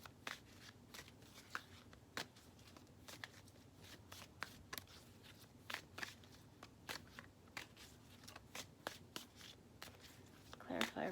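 Tarot cards are shuffled and drawn, giving a quiet, steady run of close soft riffling snaps and flicks with a faint background hum.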